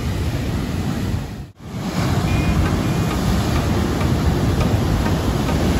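Dangerous ocean waves crash at Casiguran in a continuous broad roar of surf, dipping briefly once before rushing back at full strength.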